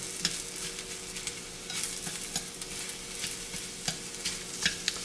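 Shiitake mushrooms cook down in a pan with a soft, steady sizzle, broken by occasional sharp pops and crackles, quiet and close with no talk.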